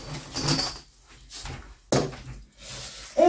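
On a workshop workbench, tools and items are tidied away in a few close, loose clatters and knocks with quiet gaps between them, ending in a sharper bump, and no speech.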